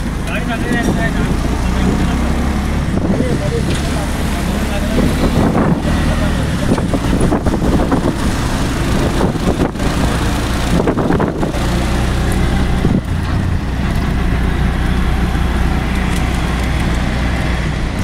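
A car travelling along a road past a village and forest, its steady engine and road rumble continuous throughout, with people talking over it inside the vehicle.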